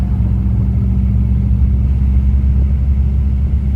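An air-conditioned car cruising on the highway toward Taif gives a loud, steady low rumble of engine and tyre noise from inside the cabin, unbroken and without voices.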